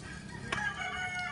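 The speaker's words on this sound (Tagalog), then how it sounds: "Ang mga maririnig mo lang yung mga manok, mga naghiyawang manok" A rooster crows once in the distance over a steady outdoor background, with no talking.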